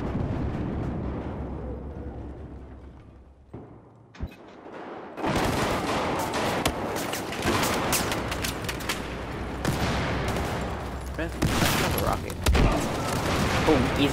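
Booming shotgun blasts in the video game Battlefield 4 ring out amid a loud, chaotic battle with explosions and other gunfire, a player's voice talking over the din.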